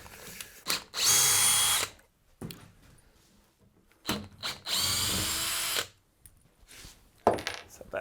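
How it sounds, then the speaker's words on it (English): A power drill unscrews screws from an MDF board in two loud whirring bursts of about a second each, with quieter handling and clatter of loose screws between them. "all I've got to do is unscrew my MDF"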